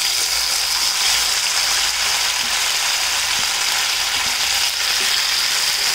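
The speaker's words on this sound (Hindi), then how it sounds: "तेल गर्म हो गया, अब इसमें जो गट्टे हमने रखे हैं काट के वो डाल देते हैं।" Besan gatte shallow fry in hot oil in a kadhai, giving a loud, continuous crackling sizzle that holds steady throughout.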